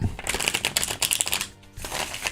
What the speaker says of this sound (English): One more shuffle ought to do it.